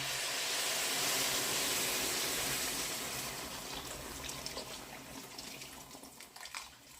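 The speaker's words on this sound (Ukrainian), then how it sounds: "І ось тепер додаємо окріп" Boiling water pours steadily into a pot of lazy cabbage rolls, a loud continuous rushing hiss that eases and thins toward the end, with no talking.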